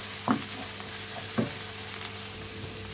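Spices cooking for a Bangladeshi-style chicken korma, stirred in a non-stick pan: a soft, low sizzle with a few light scraping strokes of the spoon, fairly quiet and close.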